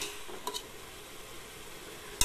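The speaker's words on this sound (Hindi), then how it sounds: "अब मैं इसमें दही ऐड करेंगे और इसे अच्छे से इसे भी 5 मिनट तक पका लेंगे" Mutton with ginger, garlic and yogurt fries in a pan, a steady close sizzle broken by a few spoon scrapes and clinks, ending in a sharp metallic knock.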